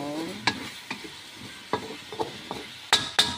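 A spoon scrapes and clinks in a pan of tinola chicken, with soft sizzling underneath; about eight separate strokes land unevenly, the last two sharper and louder.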